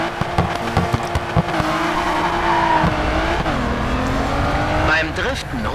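A race car in Grid 2 drifts through the streets of Paris, with the engine revving loud and close over squealing tires and rising and falling through the slide, while someone talks over it.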